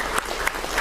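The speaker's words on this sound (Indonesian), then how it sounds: "Boleh tepuk tangan" A brief burst of audience applause at a ministerial event, a few distinct claps standing out over a dense, close patter of hands.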